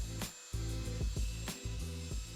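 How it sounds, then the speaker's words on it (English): A rotary polisher whirs steadily with a low hum on car paint, its pitch dipping and shifting in short bursts as it works against the surface, close by. "we're going to use our rotary to bring back the shine"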